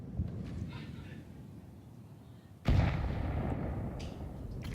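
A grenade bursts in a Counter-Strike esports match, a sudden loud boom with a long rumbling decay partway through, following quieter game ambience and faint distant pops.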